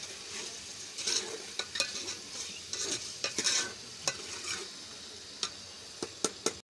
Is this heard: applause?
no